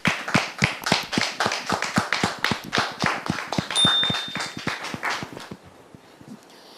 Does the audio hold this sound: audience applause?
yes